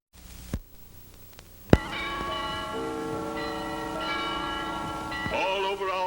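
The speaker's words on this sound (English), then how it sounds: "the bells are ringing" Church bells ring out: two sharp strikes leave long, layered ringing tones that hum and overlap, loud and resonant, with no voices.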